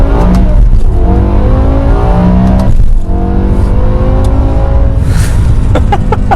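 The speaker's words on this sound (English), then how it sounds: "This S85 V10 is truly motorsport derived, and it just feels like a total race car." A 2007 BMW E63 M6 with its S85 V10 engine revs hard on a canyon road, loud rising and falling engine pitch through several gear changes, with a brief dip in the middle and no talk.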